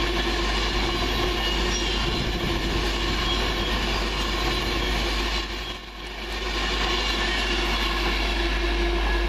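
A Virgin Trains Class 390 passenger unit, 390-009, running from Manchester Piccadilly to London Euston, passes through Stone station with a loud, steady roar of rolling wheels and rushing air that dips briefly before continuing.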